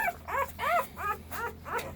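A four-day-old American Pit Bull Terrier puppy whimpers close up, four short rising-and-falling whines in quick succession.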